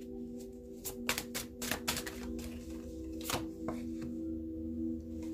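Tarot cards being shuffled by hand make quick, crisp clicking and riffling bursts, a cluster early on and another later, over a steady low electrical hum, with no talk.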